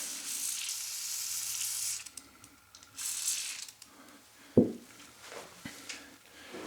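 An oiled toothbrush scrubs Glock pistol parts in short, faint bristly bursts, close up and quiet, with small metallic clicks between strokes.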